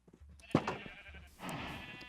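Sheep on a farm in the Minecraft video game give a couple of short, quiet bleats, with soft clicks and background game sounds between them.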